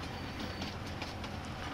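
Train rolling steadily in the Farming Simulator 19 farming game, a continuous close rumble with faint rhythmic clicking, no voices.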